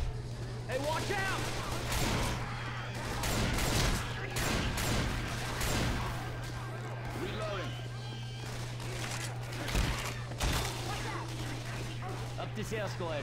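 Gunfire in the video game Left 4 Dead 2, repeated shots and bursts over a steady low hum, moderately loud throughout, with people talking over the action.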